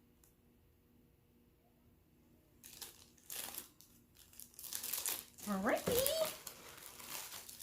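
Plastic packaging crinkles and crackles as wax melts are unwrapped, quiet at first, then bursts of rustling grow louder near the end, with a brief spoken word mixed in.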